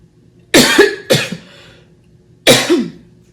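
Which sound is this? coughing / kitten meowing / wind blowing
coughing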